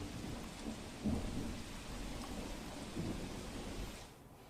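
Monsoon rain pours steadily in Gir Somnath district, Gujarat, as deep thunder rumbles roll in, one near the start and another later, over a constant wash of rainfall.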